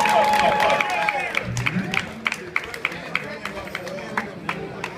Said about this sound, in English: clap it up for Jamillion